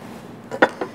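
A knife cuts through rolled perilla leaf vegetable wraps on a board, two or three soft close taps and crunchy slices in quick succession in a quiet kitchen.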